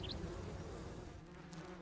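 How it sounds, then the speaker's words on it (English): Honeybee foragers leaving the hive make a steady, faint, continuous buzz that holds throughout without pause. "The foragers leave the hive to gather supplies for the hive as well as themselves."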